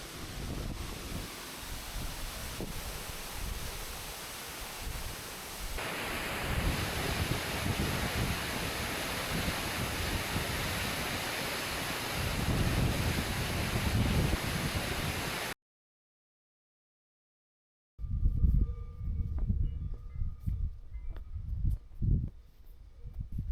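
Large waterfall in a forest in the Dolomites, a broad roaring rush of falling water with wind buffeting the microphone, cutting out briefly before a quieter, gustier stretch.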